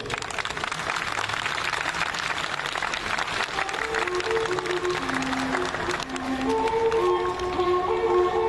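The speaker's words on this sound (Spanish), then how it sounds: "para quien pido un voto de aplausos" Crowd applauding at a ceremony in Peru's Government Palace, a steady dense wash of clapping throughout, with some tonal sounds entering toward the end.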